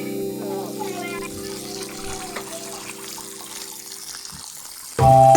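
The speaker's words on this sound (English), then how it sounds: "So I'm gonna rinse the noodles under a cold water now." Cold tap water runs into a sink while rinsing cooked noodles, a steady splashing stream heard close and fairly loud, with a faint tonal hum underneath, ending in a louder burst of sound.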